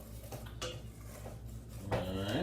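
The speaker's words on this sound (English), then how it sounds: "Stirring it." Instant Korean spicy noodles stirred in a bowl, giving a few light clinks and scrapes of utensil against dish over a steady background hum, ending in a brighter ringing clatter.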